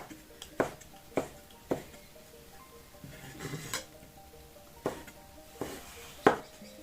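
A knife thinly slices ingredients on a cutting board, giving a series of sharp, separate taps at an uneven pace with quiet gaps between them, close and fairly faint, with no speech.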